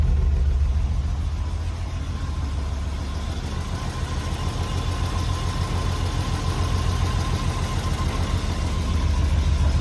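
A BMW E30 engine idles steadily up close after maintenance, giving a deep, even rumble with a faint rhythmic knock and no voices over it.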